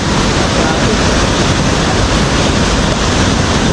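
Loud, constant roar of rushing flood water in a town in Tayabas, a dense broadband wash with no breaks, like a fast flood current close by.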